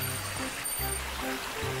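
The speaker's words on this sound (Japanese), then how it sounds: "ちょっと歩いてきたらさらに 川が、" A mountain river rushing along a hiking trail toward the Uryunuma wetland in Japan, a continuous close wash of flowing water with faint low tonal sounds beneath.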